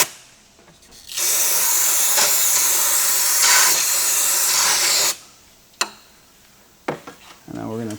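A steady, loud hiss of cleaner spray on a 6.7 Powerstroke engine runs for about four seconds, followed by a few sharp clanks and knocks.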